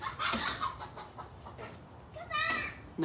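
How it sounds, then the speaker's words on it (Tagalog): Chickens cluck and squawk in short bursts with a flurry of flapping wings, fairly close and lively. "Nagliparan yung mga manok."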